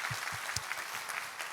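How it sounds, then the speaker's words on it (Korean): A church congregation at a Sunday worship service applauds to give glory to God, a brief, soft patter of clapping from the pews with a faint voice underneath. "우리의 예배를 받으시는 하나님께 감사와 영광의 박수 올려드리도록 하겠습니다."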